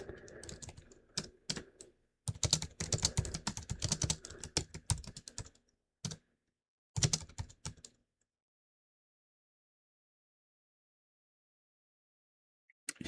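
Rapid typing on a computer keyboard fills the first eight seconds in dense bursts of clicks, then stops with a few isolated taps before near silence.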